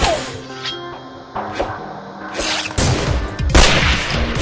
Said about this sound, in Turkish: Oğlum iki kere vurduk mermisi bitti.